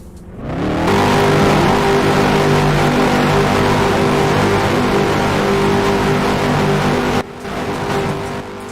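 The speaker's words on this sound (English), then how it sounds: "Drivers, start your engines." Race car engines at a Milwaukee modified-car race fire up together and rev, a loud sustained roar with steady harmonic drone that holds for several seconds, briefly dips, then carries on.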